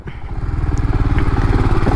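A Royal Enfield Scram 440 motorcycle engine idles and runs steadily up close, with a rhythmic low throb and slight mechanical clatter.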